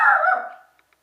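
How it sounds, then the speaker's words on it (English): A single dog bark up close, loud and sharp, tailing off quickly into silence. "have to excuse my dog."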